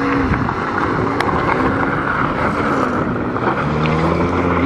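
A 1992 Toyota Corolla driving over farm grass gives a steady, close engine drone with rough rumbling and wind buffeting throughout.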